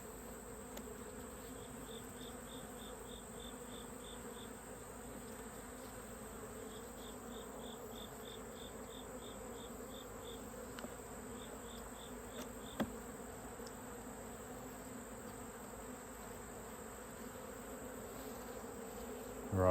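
Robber bees drone steadily around an open beehive with a suspected laying worker, a constant insect hum with faint chirping insects in the background and no talking.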